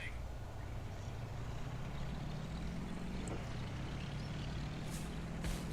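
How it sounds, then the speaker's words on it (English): A Panzer IV-F tank in the World War II strategy game Company of Heroes rolls forward, a steady low engine rumble and track drone continuing throughout at even level, with faint higher mechanical clatter above. "Order the Panzer to move to the indicated position with it."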